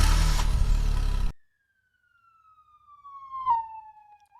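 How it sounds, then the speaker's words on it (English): Music cuts off, then a faint ambulance siren tone rises and slides downward in pitch as it passes, a Doppler effect, growing louder briefly before fading. "to show off the Doppler effect"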